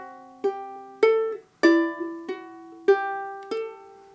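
Fingerpicked ukulele plays the first two measures of the Campanella etude, a steady sequence of about seven bright plucked notes ringing into one another, solo and up close with no talking.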